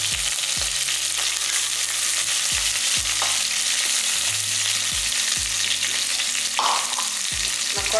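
Shallots, curry leaves and coriander stems fry in oil for a crab rasam, a constant close sizzle with occasional stirring scrapes, no one speaking.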